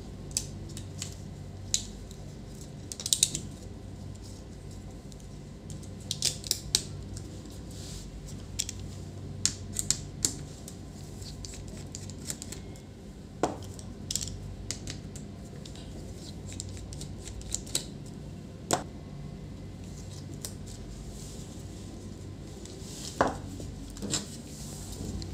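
A broken display hinge on an Acer TravelMate 215 laptop is pried open, giving scattered sharp plastic clicks and snaps up close over a low background hum, with no talking.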